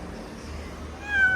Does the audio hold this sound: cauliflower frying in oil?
no